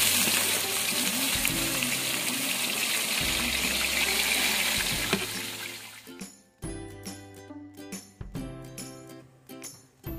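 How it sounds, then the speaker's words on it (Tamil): Onions and whole spices hit hot oil in a pot for village-style chicken biryani, a loud, dense sizzle for several seconds that then thins into scattered crackles and pops, with a low hum underneath. "இப்போ இது கூட கட் பண்ணி வச்சுருக்க வெங்காயம் சேர்த்துக்கலாம்"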